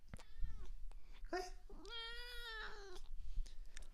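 A pet cat gives a few drawn-out meows, one long rising-and-falling cry standing out, faint and fairly close in a quiet room with low background noise.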